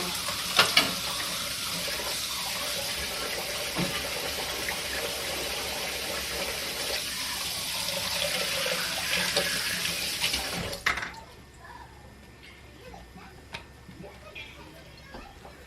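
Water runs steadily from a tap into a sink while something is washed out, a continuous hiss with a few small knocks, then it shuts off and leaves quiet room tone with faint clicks.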